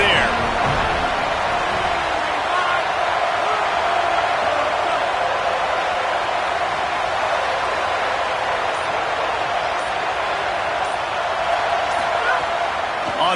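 A football stadium crowd roars steadily and loudly as fans try to help the defense keep the opponent pinned deep in its own end, a dense continuous wash of cheering with no breaks.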